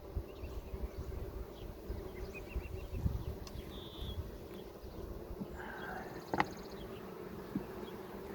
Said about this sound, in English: I shook some bees into the next door.